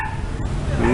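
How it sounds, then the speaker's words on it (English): A small, yappy dog barks and yips repeatedly on a busy street in Hanoi, close and fairly loud over steady traffic noise. "A noisy dog, a yapper"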